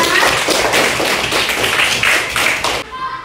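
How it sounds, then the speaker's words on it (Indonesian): Students clapping together in a classroom after praise from their teacher, a rapid, fairly loud clapping burst that cuts off sharply near the end, leaving quiet room sound. "tepuk tangan untuk semuanya"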